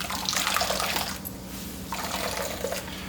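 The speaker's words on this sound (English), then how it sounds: "I'm gonna wring and squeeze all of that milk out" Liquid splashes and trickles steadily as milk is squeezed by hand from grated coconut pulp, wet and close with a brief pause in the middle.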